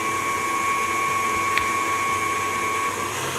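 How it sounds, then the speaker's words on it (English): Electric hand mixer running steadily while blending cupcake batter for dirty chai and maple cupcakes, a continuous close motor whir with a steady high whine throughout, no talking. "Then with your mixer, you want to go ahead,"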